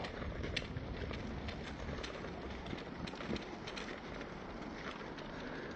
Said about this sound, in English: We are going to disturb these pigeons, I know we are.